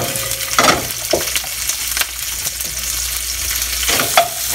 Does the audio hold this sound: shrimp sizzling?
yes